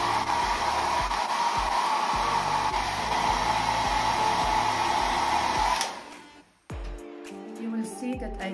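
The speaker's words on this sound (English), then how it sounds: "So if I make it hot with a hairdryer" A hair dryer blows with a loud, steady whooshing hum, heating a bendable wood-like furniture material, then cuts off abruptly near the end, followed by brief handling noises.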